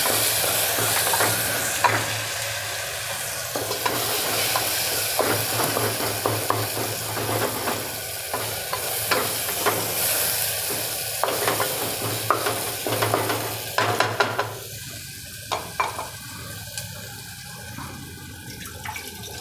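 Steady sizzling of spices in a frying pan with repeated scraping and stirring strokes, close up, alone without talk, settling quieter near the end.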